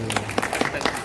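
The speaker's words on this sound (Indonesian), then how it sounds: "Tepuk tangan dulu." Audience at a formal gathering applauding, with distinct individual claps standing out over a low hum of the room.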